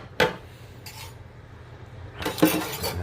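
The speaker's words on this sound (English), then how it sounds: "So I got a couple dishes in the sink." Dishes and cutlery are handled in a kitchen sink, with a sharp clink, a softer clatter and then a burst of rubbing and clanking near the end, all close by with no talk.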